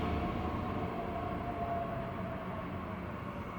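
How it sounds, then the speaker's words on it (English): A regional train, the RE 61 to Mittenwald via Weilheim, pulls into platform 4 of a main station, giving a steady loud rumble and rail noise with a faint high squeal, unbroken throughout. "I took the train to meet my friend at the main station."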